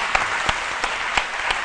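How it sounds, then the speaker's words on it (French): Studio audience applause on a television talk show, a short burst of steady clapping from a crowd with a few sharper individual claps standing out, heard alone without talk. "Merci d'applaudir Showtime."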